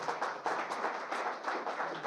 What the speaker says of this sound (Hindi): तो तालियां तो बजा दो यार, सच है तो